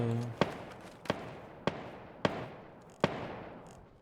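Gunfire in PUBG, a battle royale shooter: five sharp, loud reports spaced roughly 0.6 seconds apart, each ringing with a short decaying tail, with no talk over them.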